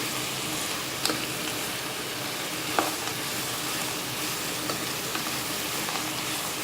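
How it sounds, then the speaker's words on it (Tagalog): Macaroni and carrots sauté with chicken in a pan, giving a steady close sizzle with a few sharp clicks from stirring. "Gisahin natin kasama yung macaroni at saka yung carrots."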